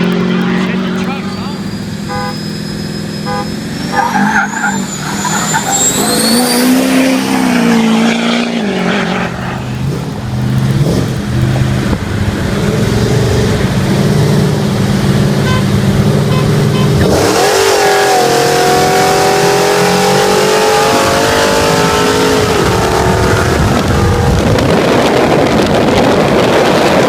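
A twin-turbo truck and a supercharged Pontiac GTO race, engines roaring loudly and revving up through rising gears, with wind buffeting the microphone and a voice speaking over the noise.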